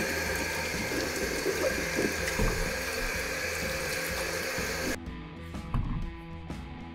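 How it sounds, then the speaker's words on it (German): A zucchini, a red pepper and an aubergine are rinsed under a running kitchen tap, a steady close splashing stream that cuts off abruptly partway through, leaving quieter drips and handling sounds. "Unter fließendem Wasser waschen."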